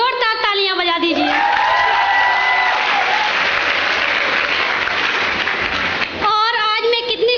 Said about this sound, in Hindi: आप सभी लोग महागुरु के प्रति एक बार जोरदार तालियां बजा दीजिए